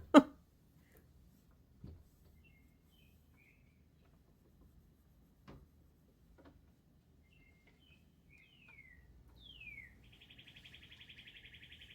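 Faint, sparse bird chirps from outside a window at a distance in a quiet kitchen, with a few soft knocks and a high trilling call near the end.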